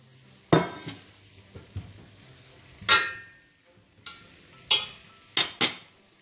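Mushrooms drop into a hot pan of garlic pork tenderloin with wine and are stirred, giving sharp scraping, clinking strokes at uneven intervals over a soft sizzle, close and clear without speech.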